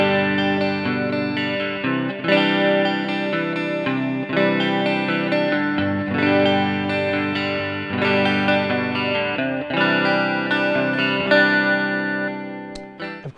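A modified Squier Telecaster runs through an MXR analog chorus pedal, shimmering strummed chords and picked notes ringing continuously with a wide, swirling chorus wash, played alone with no talking.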